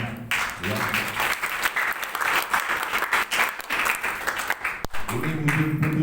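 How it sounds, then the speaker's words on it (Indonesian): A live audience bursts into loud, sustained applause, a dense wash of clapping that holds for several seconds before a voice speaks over its tail. "beri aplaus buat Pak Uli dan Bu Norma ya"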